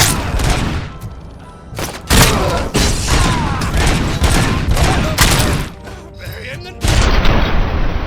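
Loud, repeated gunshots and booming impacts fill a firefight in the video game Robocop: Rogue City, with bursts of fire coming close together throughout.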